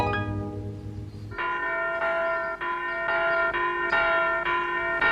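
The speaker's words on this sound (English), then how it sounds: "There goes the school bell." A school bell rings in a steady, sustained metallic peal with bright overlapping tones, continuous and fairly loud for several seconds after a brief lower hum at the start.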